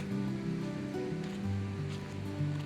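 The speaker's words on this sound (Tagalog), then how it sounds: "Kasi sobrang lakas ng alon." Strong ocean surf at Al Mughsail Beach makes a steady, loud, continuous roar of breaking waves with a low rumbling wash that swells slightly over the short stretch.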